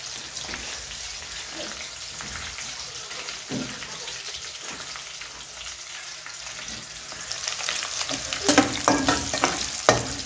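Onions and rice fry in hot oil in a pan, a continuous crackling sizzle with intermittent stirring scrapes that grow louder and busier toward the end.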